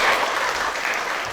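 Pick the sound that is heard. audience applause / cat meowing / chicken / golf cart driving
audience applause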